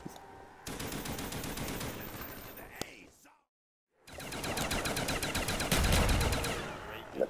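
Rapid automatic gunfire in a Call of Duty zombies speed run on Kino der Toten, with two sustained loud bursts separated by a brief silence.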